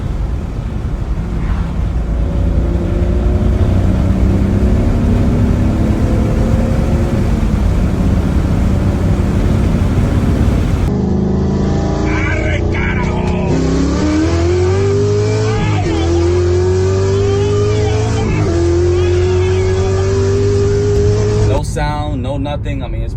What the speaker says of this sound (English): this is the exhaust. How quiet it sounds. I'm gonna give it a little downshift, and I'm gonna have you hear it.